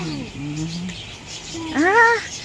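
Several birds give short chirps and cooing calls nearby, with a louder warbling call near the end over faint background noise.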